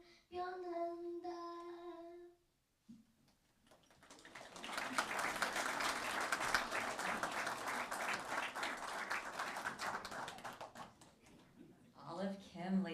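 Audience at a funeral service applauding after a song, a sustained wash of clapping lasting several seconds, with a voice talking before and after it.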